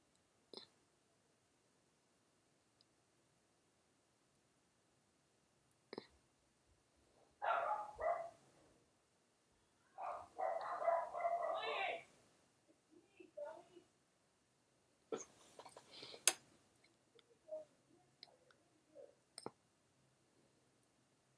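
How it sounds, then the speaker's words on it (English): Household dogs bark in short bursts in a quiet indoor room, a few sharp yips and a longer flurry of barking, fairly faint and separated by silence, with occasional clicks in between. "Don't mind my barking dogs, they're always barking"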